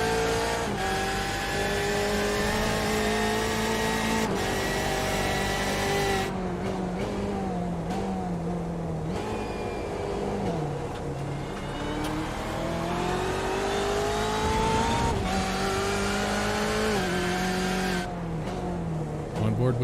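Race cars roar steadily around Daytona International Speedway at night in a racing video game, engines droning and shifting pitch as they lap, under continuous commentary.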